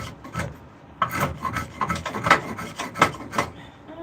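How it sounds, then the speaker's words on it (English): Rasp filing a wooden spoon, with about seven rough scraping strokes in a steady back-and-forth rhythm, close and fairly loud with no talk. "I might have to rasp it."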